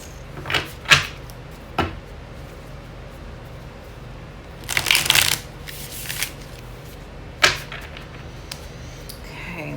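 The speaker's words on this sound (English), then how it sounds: "I'm going to do 2 more shuffles" A deck of tarot cards is shuffled in several quick riffling bursts, close up, separated by pauses and faint handling noises.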